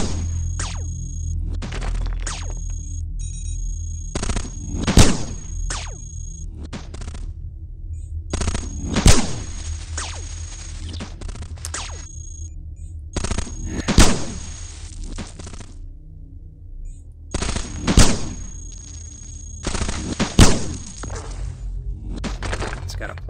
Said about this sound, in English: Plasma cannon or something.